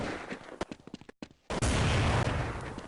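Rapid gunfire in Counter-Strike on the de_tuscan map during a DreamHack 2011 match, with a burst of sharp shots, a brief silent gap, then a sustained loud roar of close shooting.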